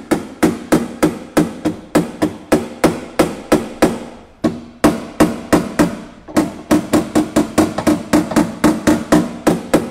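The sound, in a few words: hammer tapping sheet metal under pressure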